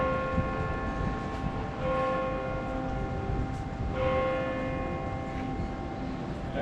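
The bells of St Mary Le Bow in Cheapside, London, ring out in a peal that sounds distant and fairly faint, half-buried under a constant rumble of city traffic.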